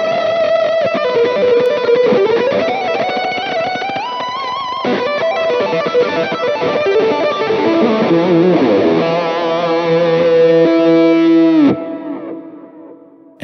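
Sustained, creamy overdriven electric guitar lead, played loud and alone with singing bends and vibrato under delay and reverb, ending on a long held note that cuts off near the end.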